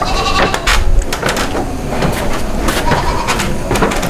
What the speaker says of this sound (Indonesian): Nah, ini kambing perah.